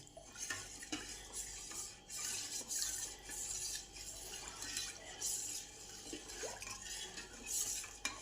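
A spoon stirs ground black pepper and cardamom into a jaggery panakam drink in a metal pot, with soft, continuous scraping and clinking, faint and close, with no talk.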